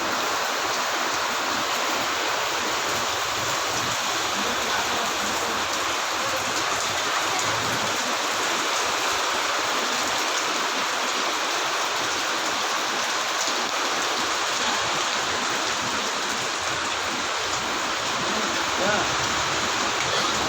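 Heavy rain pours down steadily in Mayiladuthurai, India, a dense, continuous hiss with no breaks, loud and close throughout.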